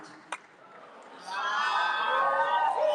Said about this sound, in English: the crowd is literally cheering